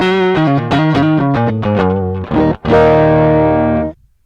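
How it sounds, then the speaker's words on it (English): Electric guitar run straight through MXR pedals with no amp plugin, heavily distorted with a chorus-like shimmer: a quick run of picked notes, then one sustained ringing chord that cuts off abruptly, played alone. "this is what my guitar sounds like with just pedals"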